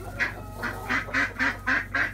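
A distressed duck in a hen house gives a run of seven loud, evenly spaced honking quacks close by, with a steady low hum beneath.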